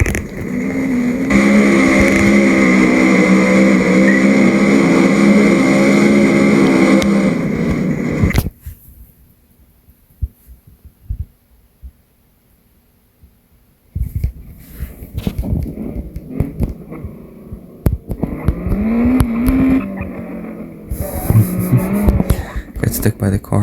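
Race cars in a multiplayer racing video game, engines droning loudly and steadily at first, then a near-silent pause, then revving, acceleration and tire squeals returning in bursts.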